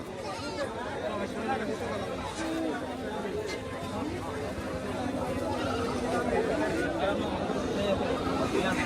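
Goats bleat amid the crowded chatter of a busy livestock market, the animal calls scattered through steady overlapping human talk.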